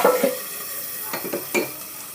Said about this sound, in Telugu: ఇప్పుడు స్టవ్ ఆఫ్ చేసేసి ఇప్పుడు మన పోపుని ఇందులో వేసేసుకుందామండి